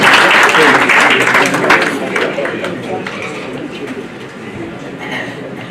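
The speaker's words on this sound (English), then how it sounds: "with a round of applause as she comes to the stage" A gala dinner crowd claps in a sustained round of applause that starts loud and gradually fades over several seconds.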